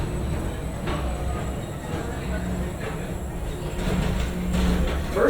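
An express train ride rolls along with a steady low rumble and hum, a few soft swells and a brief knock, continuous and close as if heard from inside the car.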